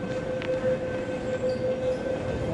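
A train at a station near the Chunuan line, a steady low rumble with a faint sustained squeal and metallic tones, moderately quiet, no talking.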